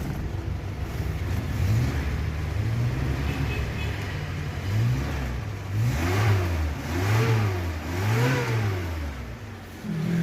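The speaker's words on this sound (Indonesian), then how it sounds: "Sekarang kita geber-geber nih untuk mesinnya." Engine of a Suzuki Carry Bagong Sipit limited edition is revved repeatedly, rising and falling in several quick blips, heard close with some wind noise over the microphone.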